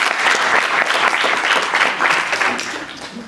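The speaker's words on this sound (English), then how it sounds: "let's give them a round of applause" An audience claps in steady, dense applause at a civic talk on health equity in Buffalo, New York, loud throughout and easing slightly toward the end, with no voices over it.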